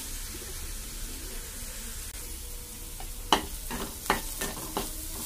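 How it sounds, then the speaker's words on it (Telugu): Onions fry softly in a pan for carrot rice, a low steady sizzle that gives way to a run of sharper stirring scrapes near the end, with no talking. "ఆనియన్స్ ఫ్రై అవుతున్నాయి కదా"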